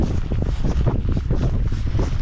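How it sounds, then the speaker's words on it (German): Strong wind buffets the microphone in a steady, loud roar with gusty rumbling throughout and no voices, outdoors at a scenic viewpoint in Kyrgyzstan. "Es ist zwar extrem windig"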